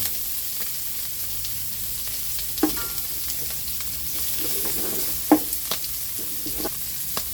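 Onion and garlic sautéing in a pan, with a soft steady sizzle and intermittent scraping and clinking from stirring, close and fairly quiet.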